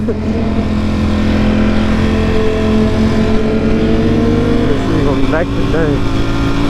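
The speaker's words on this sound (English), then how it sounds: "He was just rev bombing it" A motorcycle engine drones loudly and steadily while the rider talks over it, its pitch rising and then dipping sharply near the end.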